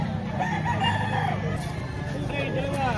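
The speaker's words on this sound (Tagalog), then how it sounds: "Oh, gandang manok." Roosters crow amid clucking chickens at a busy poultry market in Lipa, Batangas, loud and near, with people talking in the background throughout.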